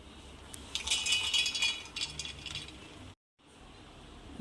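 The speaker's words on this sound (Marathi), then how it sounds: "मिक्सर बंद चालू बंद चालू करून काढून घ्यायचं आहे" A mixer grinder pulses peanut chutney, rattling and whirring loudly for a few seconds, cutting off abruptly, then starting again more quietly.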